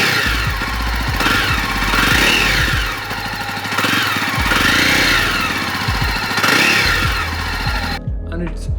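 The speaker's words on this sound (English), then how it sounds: "Dual exhaust is great to look at and the exhaust note has been tuned to sound better." A Jawa 42 2.1 motorcycle engine runs through its tuned dual exhaust with a throaty, pulsing note, rising and falling in revs in repeated cycles before cutting off abruptly.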